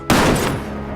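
A single sharp gunshot in Soul Calibur VI cracks out loud and close, its broad report decaying over about half a second with no talk.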